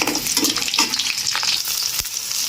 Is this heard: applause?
no